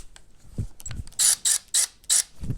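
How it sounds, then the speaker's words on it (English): A Milwaukee M12 4-in-1 cordless drill driver runs in four quick, sharp, whirring pulses with faint mechanical clicks and handling noises between them, close by, with no talking. "Let's give this Milwaukee a shot."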